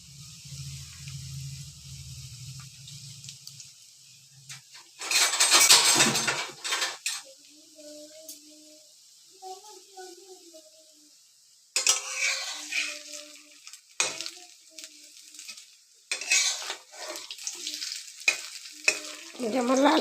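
Pakoras frying in oil and being turned, with loud close sizzling bursts, scraping and clinks of a utensil against the pan, and quieter stretches of gentle bubbling between.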